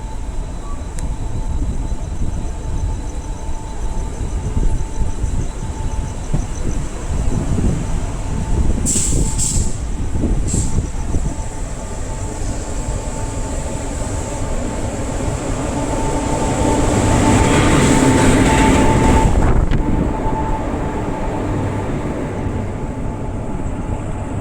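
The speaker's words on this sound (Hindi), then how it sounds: "तो फाइनली 6:25 पर हमारी ट्रेन निकल रही है लोनावाला रेलवे स्टेशन से।" The Latur Mumbai Superfast Express pulls out of Lonavala station with a loud, steady rail rumble and clatter of wagons, brief high squeals partway through, and a swelling roar near the end.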